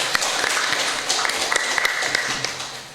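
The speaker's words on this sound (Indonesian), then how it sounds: "Tepuk tangan untuk anak-anak kita" At a Javanese church service for National Children's Day, the congregation applauds the children, a fairly loud wash of clapping with a few distinct nearby claps and faint tonal sounds behind it.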